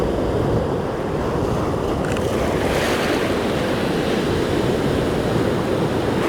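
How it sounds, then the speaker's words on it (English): Ocean surf rolls in and washes back out in a steady, loud roar, heavily mixed with gusting wind buffeting the microphone, with no voices. "Trying to capture the surf as it comes in and then as it goes back out again."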